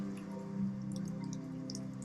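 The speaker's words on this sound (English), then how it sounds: "Maybe you can even feel each raindrop," Soft rain drips and patters steadily, with small distinct droplets ticking over a low, even background hum, calm and fairly quiet.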